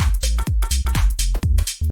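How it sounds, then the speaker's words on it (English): A loud tech house track with a pounding kick and bass, bright rhythmic shaker hits filling the high end between beats. "when you have like a shaker like this,"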